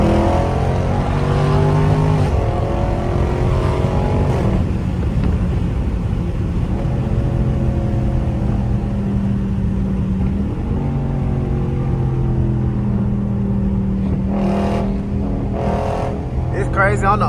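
A 500 hp Dodge Scat Pack accelerates hard in traffic, its engine loud and close as rising gear sweeps climb and shift several times, with a voice talking over it.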